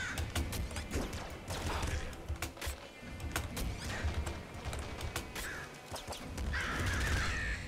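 Crow-like caws ring out in the game Nuclear Throne, several harsh calls amid bursts of gunfire and crashing game effects, moderately loud.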